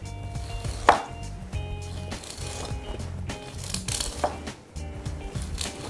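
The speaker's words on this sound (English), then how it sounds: "I'm just gonna slice off the corn like that" A knife slices kernels off a fresh corn cob in a series of close, crisp cutting strokes with light scraping between them. No one speaks.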